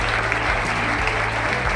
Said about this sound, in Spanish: un fuerte aplauso para Estela